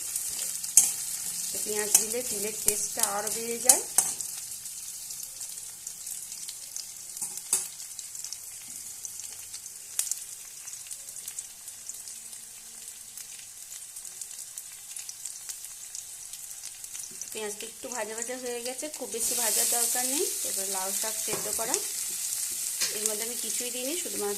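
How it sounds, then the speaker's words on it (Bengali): A medium-sized chopped onion fries in oil, giving a soft, steady sizzle with bursts of stirring. Spoken commentary over the first few seconds and again near the end partly covers it. "একটা মিডিয়াম সাইজের পেঁয়াজ কুচি আমি তেলের মধ্যে একটু ভেজে নেব"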